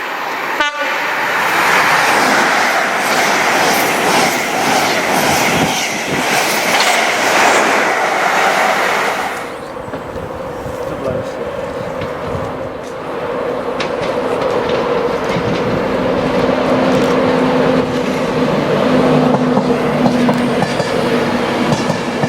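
A Virgin train to Newcastle races through Peterborough station at high speed, sounding a short horn blast at the start, then a loud, sustained roar and rattle of passing carriages with rhythmic wheel clatter close by.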